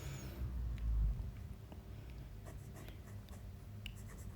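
A Leonardo MZG fountain pen with a titanium nib scratches softly across paper in faint, steady strokes, quiet and close, with no voices.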